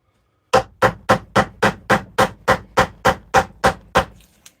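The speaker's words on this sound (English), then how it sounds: "chisel." A chisel struck against a large willow bowl as it cuts into the heartwood, about fourteen sharp evenly spaced knocks in quick rhythm, close and loud, with nothing else heard.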